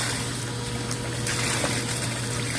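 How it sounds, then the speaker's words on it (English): A pump pulls water out of a flooded basement through a sewer clean-out line, a loud constant mechanical hum mixed with rushing, gushing water, close and unbroken. "it's pumping out a ton of water"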